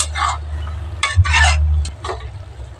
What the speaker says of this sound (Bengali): খুলে দিয়ে শাকটা নেড়ে দেবো